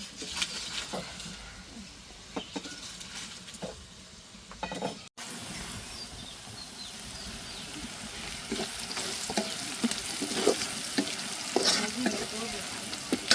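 Sliced onions frying in hot oil in a home kitchen pan, a steady close sizzle with occasional stirring scrapes, continuous throughout with no one talking.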